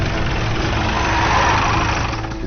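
A vehicle engine idles at the end of a forest track, a steady close low rumble running unbroken throughout.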